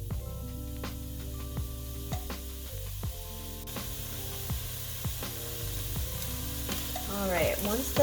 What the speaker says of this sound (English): once those onions are sizzling a little bit, you can add the garlic.